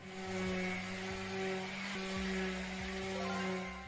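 Toys are sanded in the Toy Tinker Simulator video game, making a steady, quiet mechanical whirring buzz broken by faint periodic clicks, with no one talking.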